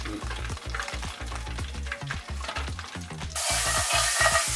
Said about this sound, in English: We stirred them up while they're in the oil so we can get each side thoroughly